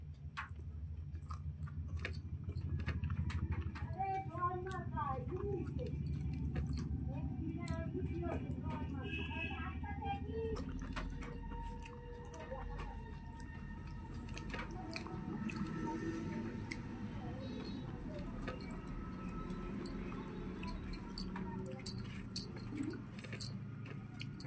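Chewing through a homemade lunch of cooked taro stolons with egg curry, soft wet squishy bites and occasional clinks, close but quiet under a steady low room hum, with speech heard in places.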